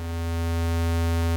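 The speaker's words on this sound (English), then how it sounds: "At first I will take my Intellijel Dixie VCO's pulse width output" Pulse wave drone from an Intellijel Dixie VCO in a modular synth, routed through a mixer, a steady buzzy sustained tone with rich harmonics and no change in pitch.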